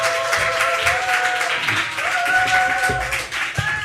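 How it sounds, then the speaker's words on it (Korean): Church congregation at a Friday evening service claps to welcome a visiting pastor, a sustained round of applause mixed with sustained musical tones from instruments playing behind it. "우리 신상철 목사님 모실 때 큰 박수로 환영해 주십시오."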